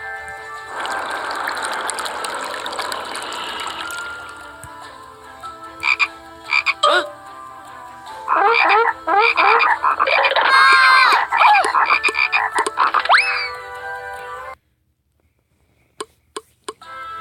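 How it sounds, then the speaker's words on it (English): Frogs croaking in dense, bubbling choruses, bursts of rapid ribbity calls separated by short pauses, loud and close, then a silent gap with a few isolated clicks near the end. "Then he filled the Egyptian houses with frogs. Frogs were everywhere."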